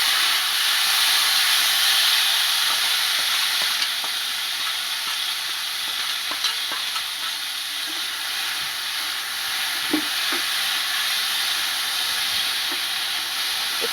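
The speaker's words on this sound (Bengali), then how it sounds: "একটু নাড়াচাড়া করে নিলাম" Vegetables stirred in hot oil in a wok while making chicken soup at home produce a steady, loud hiss and sizzle throughout, with a few faint clinks and scrapes from the stirring.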